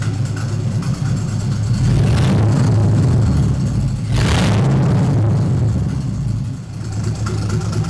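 An LS-swapped Squarebody truck's V8 engine is revved with the throttle pedal, a loud, close, rumbling idle that swells into two strong revs before settling back.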